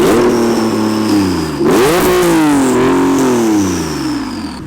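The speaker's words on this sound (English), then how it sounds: "Engine sounds okay, right?" A twin-turbo Nissan 370Z engine revving hard near the limiter, loud and close, with pitch swooping up and down through several blips and a high turbo whine over the top, no talking.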